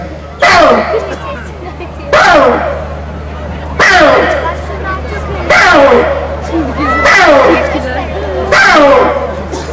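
At a yaren night gathering in Seki, Fethiye, a voice repeatedly imitates a fox, giving about six sharp, yelping barks at regular intervals over a steady low background hum.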